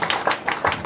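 A church congregation applauding warmly, a short burst of irregular hand claps at close range.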